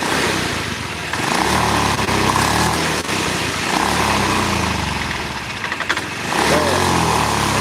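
A Honda Beat Pop scooter engine idles roughly and fails to hold a steady idle nearby, its putter rising and dipping unevenly, with brief revs and people talking over it.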